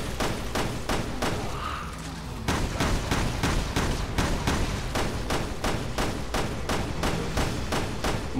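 Rapid gunfire bursts from the Resident Evil Revelations 2 Raid Mode video game, sharp repeated shots firing in steady rhythm through the whole stretch, loud and close with a short pause early on.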